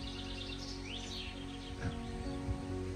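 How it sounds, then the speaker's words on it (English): Small birds chirping in trees outdoors in Gatehouse of Fleet, Scotland, a few soft, quick tweets over a steady low background hum, moderately distant and not loud. "There's a bird there pecking away at his leg."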